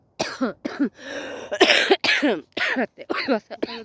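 Repeated harsh coughing in a series of short bursts, close and loud, with brief pauses and throat clearing between fits.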